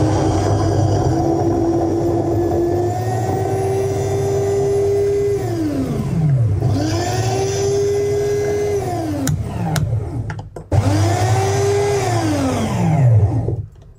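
An FGM 9702 electric coffee grinder grinding beans coarsely, its loud motor whine running steadily, then repeatedly dipping and spinning down before ramping back up, close and with no talk.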